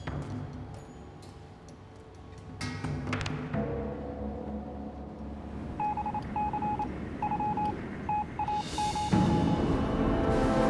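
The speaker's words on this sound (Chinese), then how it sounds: "马上给林老板发报，让他转告兵托，我也安全归来" A telegraph signal being sent: a steady electronic beep keyed in short and long bursts, fairly clear over a low background hum, with no talking.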